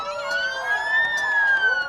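An ambulance siren wails on a cleared street in Hong Kong after protests, a single clear rising-then-falling electronic tone, fairly close and loud, over faint background traffic noise.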